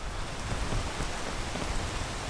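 Steady rain from a weather event in the video game PEAK, a dense even hiss of downpour that stays constant and fairly close throughout, with no voices.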